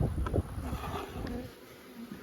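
A low, continuous buzzing of bees around beehives, steady and fairly soft, with a diffuse outdoor hum and no talking.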